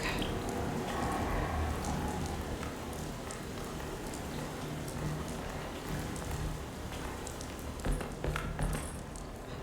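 Steady patter of rain falling indoors in the video game Alone in the Dark, quiet and continuous, with a few sharper drips and taps near the end.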